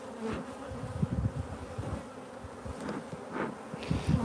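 Honeybees in an opened beehive in midwinter buzz close by, a dense continuous hum with individual bees flitting past, loud and steady throughout with no talking.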